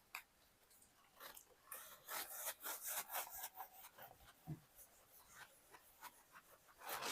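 Writing being erased from a board during a maths lesson, faint scratchy rubbing strokes in irregular bursts that grow busier in the middle, close and without talk.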